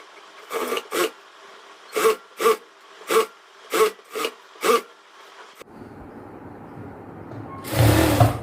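Sewing machine stitching palazzo pant fabric: about seven short rattling bursts at an uneven pace, each a second or less, then a quieter hum and a longer, louder run at the end.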